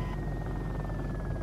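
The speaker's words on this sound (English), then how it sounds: "It's a chopper. It's a helicopter." A military helicopter flies in the ArmA II video game, a loud steady rotor thrum and engine whine filling the scene continuously with no speech.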